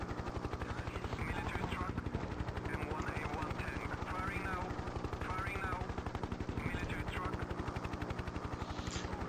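Rapid machine-gun fire from a Hind attack helicopter's turret gun in a 1996 combat flight game, steady bursts over the constant drone of the rotor and engine, with a voice talking faintly underneath.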